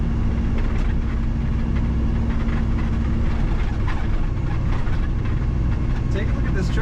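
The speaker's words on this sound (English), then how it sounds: "Really good running, great sounding truck." A 1956 Chevrolet 3100 Stepside street rod runs at a steady idle, its low engine rumble continuous and close with a faint background hum throughout.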